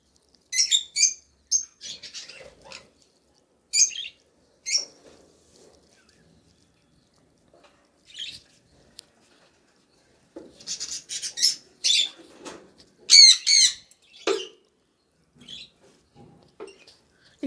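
Young lovebird chicks inside a box give short, high, scattered chirps in small bursts separated by silent pauses, heard up close.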